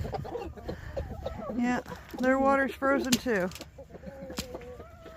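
Chickens clucking and squawking inside a farm coop on a freezing winter morning, several close birds calling in bursts while a person talks nearby.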